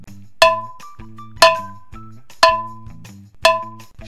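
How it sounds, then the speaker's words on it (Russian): Knocking on radiator pipes in an animated cartoon produces four evenly spaced metallic clangs, each ringing out briefly over a low tonal background. "Может постучать Гидре по батареям"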